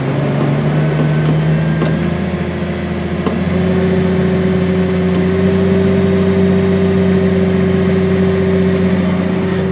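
Tractor engine throttled up toward 1800 RPM, a near, steady mechanical drone whose pitch steps upward twice, first around two seconds in and again a second later, then holds a constant higher hum.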